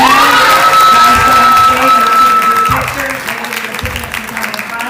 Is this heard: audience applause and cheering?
yes